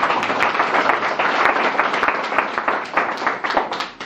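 An audience at the opening of a 3D exhibition breaks into sustained, dense applause, many hands clapping close by for several seconds before tapering slightly at the end.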